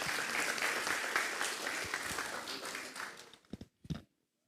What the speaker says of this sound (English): A big round of applause for Stavros.